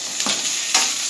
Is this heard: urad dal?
yes